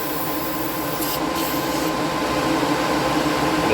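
An airbrush sprays cleaner into a rag while a chassis is being painted with Outlaw Paints, giving a steady, close, continuous hiss that stays even for several seconds with no talk over it.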